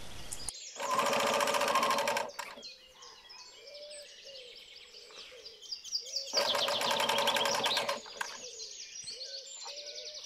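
A sewing machine stitches around the edge of a fabric beret in two loud, steady runs of rapid needle strokes, with a pause between them where birds chirp and coo in the background.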